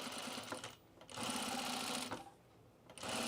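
A home sewing machine stitches just inside the seam line of a pajama top. Three bursts of steady, fast whirring are heard up close, broken by short pauses.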